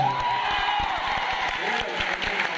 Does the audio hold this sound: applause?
yes